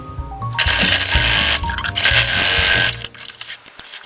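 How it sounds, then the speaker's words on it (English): A sewing machine stitches a seam on a lined tote bag, running loud and steady for about two and a half seconds before stopping, followed by a few quieter handling sounds. "So we're going to sew and just pick a place."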